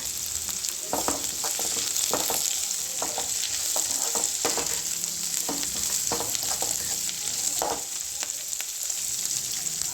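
Curry leaves sizzle and crackle steadily in hot oil with onions for chitranna. Intermittent scraping stirs punctuate the constant frying hiss, with no talking.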